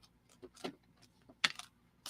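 Tarot cards shuffled by hand make a series of irregular, crisp papery clicks and riffles, close and fairly quiet, with brief louder bursts and short pauses between.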